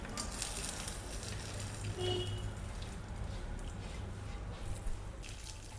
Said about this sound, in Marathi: त्यातच हे कट केलेले ड्रायफ्रूट टाकून छान त्याला कलर येईपर्यंत फ्राय करून घेऊ